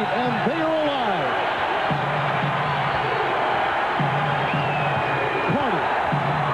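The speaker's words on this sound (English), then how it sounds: "And now the crowd is on their feet and they are alive." A basketball arena crowd at a Raptors–Nets NBA game in New Jersey rises to its feet, a steady roar of cheering and whoops filling the hall, with the thud of a dribbled ball and a commentator's voice on top.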